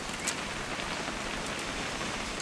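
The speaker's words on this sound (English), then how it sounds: "It's gonna rain the whole weekend," Steady rain patters softly in the video game What Remains of Edith Finch, an even, continuous hiss of drops with no voices.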